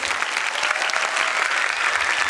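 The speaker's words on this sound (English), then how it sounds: "he needs a better applause from all of you parents" At a school annual day celebration in an auditorium, parents in the hall clap steadily, a dense, even round of applause that carries through without talk.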